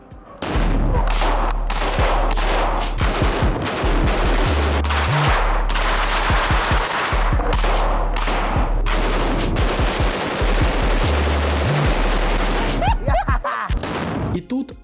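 Rapid bursts of automatic gunfire from the video game Terminator Salvation, loud and sustained, with a few short pauses and heavy low-end booms between volleys.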